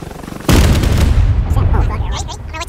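A rocket explodes in the Rust video game, a sudden loud blast that rolls into a long, rumbling decay with scattered crackles. Voices talk over the noise.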